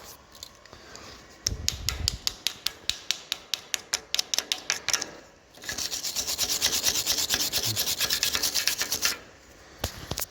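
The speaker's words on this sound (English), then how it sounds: "Even comes with its own chipping hammer," A small chipping hammer knocks flux slag off a weld laid by a cheap budget welder: quick, evenly spaced metallic taps, then a steady rasping scrape, then a few more taps, all close and alone.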